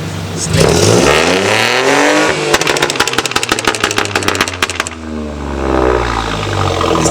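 A BMW E30 at a car meet revs hard, its engine roaring and rising and falling in pitch, then breaking into a rapid stuttering burst of bangs before settling back into a loud, close, sustained growl.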